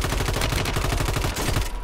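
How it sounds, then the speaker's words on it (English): Gunfire in a video game during a sniper engagement: a dense, rapid stream of close, loud shots lasting nearly two seconds before cutting off abruptly. "I just got sniped"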